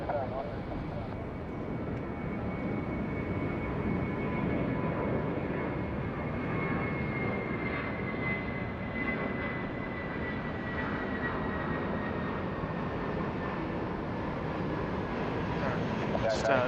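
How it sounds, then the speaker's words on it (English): A passenger plane takes off from runway 34 left at Sydney Airport, its engine roar a steady, broad, loud drone heard from a distance for the whole stretch, with a faint rising whine laid over it. "Star 986, runway 34 left, clear for takeoff."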